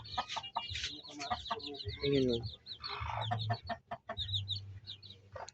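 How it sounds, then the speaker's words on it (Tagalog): A mother hen and her chicks on a poultry farm cluck and peep in quick, busy bursts close by, while a person speaks briefly over them. "So, may nag-iingay na manok doon."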